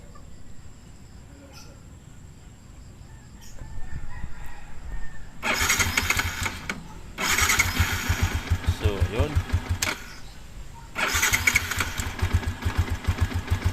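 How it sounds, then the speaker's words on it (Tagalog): A Yamaha Sniper motorcycle engine, just fixed by replacing its spark plug, cranks in several loud bursts before catching and running with a close, rapid putter, with a person talking faintly before it starts. "So ngayon titestingin natin kung aandar ah, uh, ang makina."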